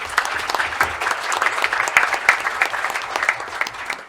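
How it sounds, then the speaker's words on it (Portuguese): Audience applause at a union board inauguration ceremony honoring a former union president, a steady dense wash of clapping hands from a sizable crowd, fairly loud and sustained for the whole stretch with no talk over it. "a quem peço uma salva de palmas"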